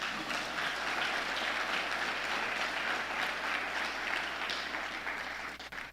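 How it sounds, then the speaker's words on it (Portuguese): A church congregation applauds for Jesus during a Portuguese-language service, a dense, steady roar of many hands clapping that holds evenly for several seconds before fading at the end. "Vamos aplaudir Jesus."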